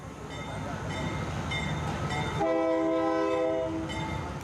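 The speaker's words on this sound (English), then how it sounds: "The night train goes less quickly, so a chance for the young migrants to get on board more easily." A night train rolls past with a steady rumble and rail noise, then sounds its loud sustained horn midway through, heard close and continuous.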